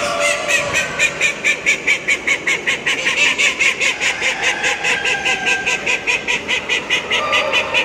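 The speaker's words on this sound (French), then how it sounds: "Ça fait presque plus de bruit que les gros canards" A chorus of loud, rhythmic honking quacks from a group of ducks at a poultry show in Limoges, repeating steadily and close by without pause.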